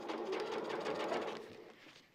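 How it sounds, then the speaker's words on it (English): A sewing machine runs a normal straight stitch in one steady, continuous whir, fairly close and alone, easing slightly in level toward the end. "so now you're just stitching a normal stitch"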